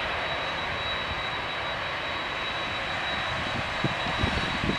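A Jet2 airliner's jet engine runs during an engine test at Manchester Airport, a loud, steady broadband roar with a constant high whine, continuous throughout with a few low thumps near the end.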